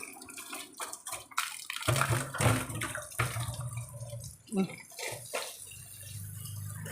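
Water splashed onto a lime tree comes in uneven sloshing bursts, close and fairly loud, with a voice speaking at moments between the splashes.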